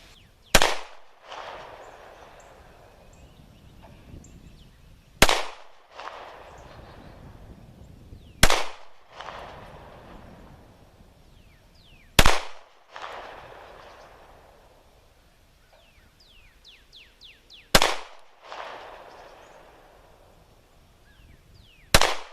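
Five loud, sharp Sig Sauer P6 pistol shots fired at targets on a range, spaced a few seconds apart, each cracking close and leaving a short echoing decay before the next.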